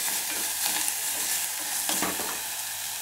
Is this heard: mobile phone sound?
no